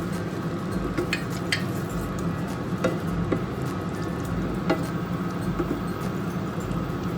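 Green peas tipped into a karai of Bengali-style spiced potatoes for aloor dum, frying with a steady low sizzle and occasional scrape of a stirring spoon against the pan.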